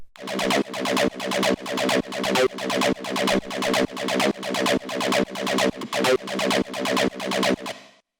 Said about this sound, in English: The first sound that we have here is the 303